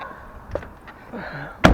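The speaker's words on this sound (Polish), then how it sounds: "Zamykam Wam drzwi." A Ford Mondeo car door shuts with one loud, solid thump near the end, after a quieter knock earlier and faint low background rustle.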